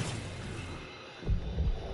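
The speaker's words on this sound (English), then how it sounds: "I hear a heartbeat" A heartbeat effect pulses during a Destiny 2 raid, Root of Nightmares, with low, muffled thumps, a soft one followed by a stronger double beat over a faint hum. No voices are heard.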